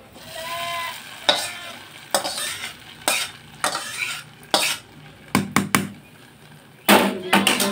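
Coconut is frying in a pan. It sizzles steadily while a utensil repeatedly scrapes and clinks against the metal in irregular bursts, and a voice speaks briefly near the start.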